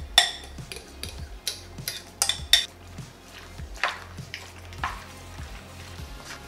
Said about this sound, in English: just stir it as quickly as you can